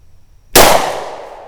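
A single loud shot from a Glock 20 Gen4 10mm pistol fired outdoors at a 50-yard range, a sharp crack after a brief quiet, followed by a long decaying echo.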